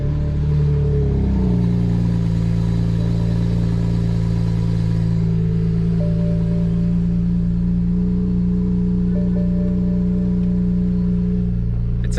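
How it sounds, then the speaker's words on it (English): A BMW E92 335i fitted with downpipes, running full bolt-ons, settles into a steady, loud, close-up engine rumble after an initial cold-start flare at idle, with no voices. "Give y'all a little cold start."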